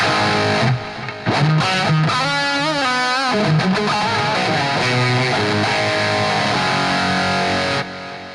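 Distorted electric guitar in a late-1970s brown tone playing a melodic lead line, with ping pong digital delay echoes bouncing behind the notes, loud and continuous until it cuts off near the end.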